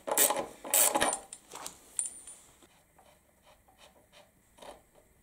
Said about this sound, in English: this is a 27mm socket. So loosen it